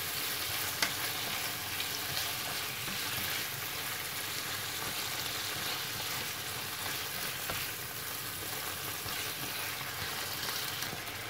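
Pork sizzling in a frying pan as it is stirred, a dense, steady, close crackle of hot fat running unbroken with faint scrapes of the utensil, no voices.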